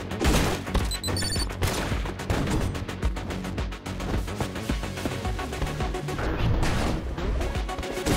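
A bomb going off in the action video game Katana Zero, a loud run of crashing, gunfire-like bursts and smashes that follow each other rapidly, with little quiet between the hits.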